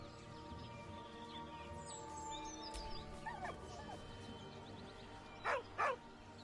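Dog in Baldur's Gate 3 giving a few soft whines and whimpers over quiet ambient game background, ending in two short louder yelps, no talking.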